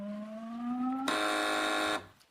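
On a television quiz panel show, a buzzer sounds: one tone rising gently, then an abrupt switch to a harsher, brighter blare that holds for about a second before cutting off.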